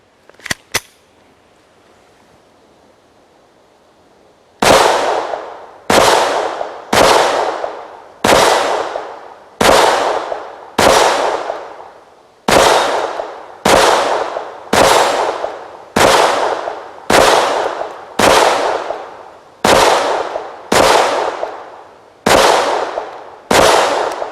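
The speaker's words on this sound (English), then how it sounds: "Next, we're going to try 16 rounds of the Federal Game Shock, the blue box." Taurus TX22 .22 pistol firing Federal Game Shock rounds at a range: sixteen sharp, loud shots in a steady rhythm, each with a short ringing decay, following a few seconds of near silence.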